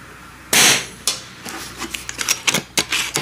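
An FX Crown MkII air rifle fires one loud, sharp crack, followed by a run of lighter clicks and knocks, close by with no speech.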